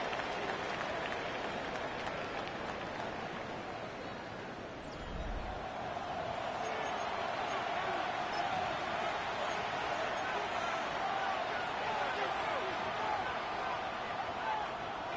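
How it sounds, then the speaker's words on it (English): A football stadium crowd at a Chargers versus Broncos game, a broad steady roar of cheering and murmur that swells slightly partway through, heard at a distance. "The crowd making their presence felt."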